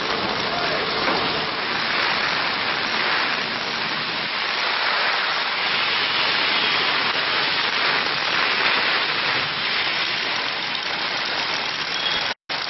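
Heavy rain from Cyclone Phethai in Andhra Pradesh pours down hard and close, a dense, steady hiss of downpour that fills the whole stretch before cutting off abruptly near the end.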